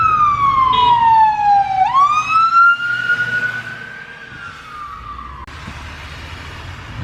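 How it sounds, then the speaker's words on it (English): An ambulance siren on a snowy road wails loud and close, its pitch sweeping down, jumping back up and gliding lower as the vehicle passes, then cutting off over steady road rumble. "got an ambulance coming this way"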